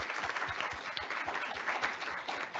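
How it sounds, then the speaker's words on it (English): An audience at an FAA aviation forum applauds steadily, a dense wash of many hands clapping at moderate distance with no talk over it. "let's give them a round of applause"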